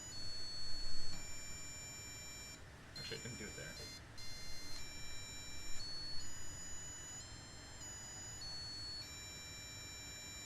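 A small electronic buzzer driven at its resonance frequency gives off steady high-pitched tones that step between pitches for about ten seconds. Someone talks quietly over it.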